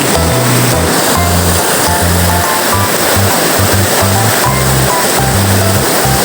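Steady, loud rush of a cold mountain stream flowing over rocks, a dense continuous wash of water close by with no voices.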